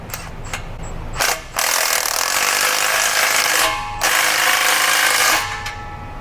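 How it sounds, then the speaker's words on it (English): A ratchet tightens the strap clamps on a new AWE exhaust fitted to a 2021 Toyota GR Supra, giving two long, loud runs of rapid mechanical clicking close up, split by a brief pause. "So I'm gonna put some clamps on, snug them up."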